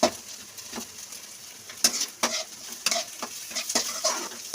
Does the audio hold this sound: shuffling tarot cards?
no